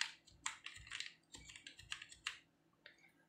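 Keys clatter on a computer keyboard while a product name is entered during a Google Tag Manager setup, in short irregular bursts of crisp close clicks with no talking.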